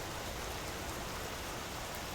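Rain falls steadily in the survival video game Vintage Story as a dense, even hiss of pattering drops, heard alone with no talking.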